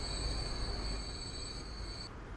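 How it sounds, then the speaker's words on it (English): A goods train arrives at a station in the video game Transport Fever, with a steady rumble of rolling wagons and a high sustained wheel squeal that cuts off near the end. "And there is a goods train though coming in, 171."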